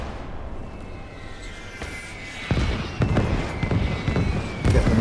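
Artillery shells explode in the Call to Arms: Gates of Hell war game, with a low rumbling barrage and several sharp, booming impacts that grow louder toward the end.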